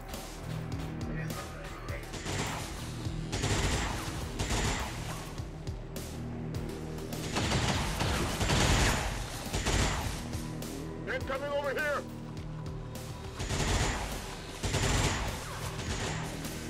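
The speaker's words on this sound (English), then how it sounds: "Taking heavy fire." Gunfire in the XCOM 2 strategy game, dense bursts of shots and explosions crackling loudly and continuously, with a brief high tone mid-way and game ambience throughout.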